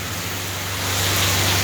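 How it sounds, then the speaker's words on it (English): Heavy rainy-season rain in Liberia pours down as a dense, continuous hiss, steady and loud without pauses, with no one speaking. "it is the rainy season in LIB right now"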